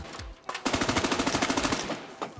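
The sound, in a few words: gunfire in the video game America's Army: Proving Grounds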